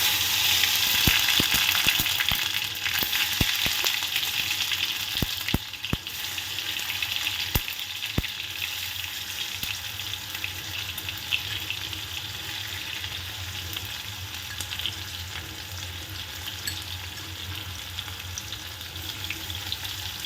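Chopped tomato frying with chillies in oil for potol tel jhal produces a long, steady sizzle, with scattered clicks of a utensil against the pan early on that fade into continuous frying.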